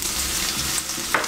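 Sliced ginger laid into hot oil in a pan sizzles and fries with a steady, close crackling hiss, with no talking.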